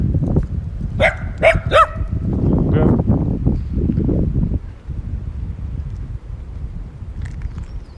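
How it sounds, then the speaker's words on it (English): Several small dogs bark outdoors by a lake, a quick cluster of yaps early on, then wind and a person talking over a rumbling background. "They like to bark."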